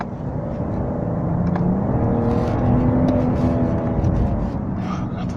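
A 2017 BMW 540i M Sport accelerates steadily from inside the cabin, the engine hum rising and stepping down as the automatic gearbox shifts, moderately loud and smooth.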